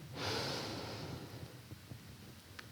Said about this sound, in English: One more time, just like that, nice big inhale.